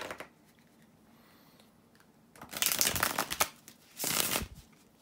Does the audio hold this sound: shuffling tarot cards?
yes